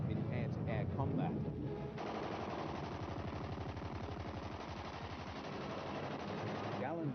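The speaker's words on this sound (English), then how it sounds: "MG-151 cannon firing through propeller boss" Machine guns and MG-151 cannon of a Messerschmitt Bf 109 fighter fire through the propeller boss in long rapid bursts, a dense rattling stream of shots running throughout, loud and close with no talk.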